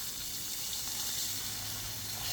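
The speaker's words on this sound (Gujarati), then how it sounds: "આપણે દૂધ ને પાણી બે મિક્સ છે એ નાખશું શીરામાં" Milk and water mixture poured into a pan of rava sheera, a steady close splashing and gushing pour with no talking.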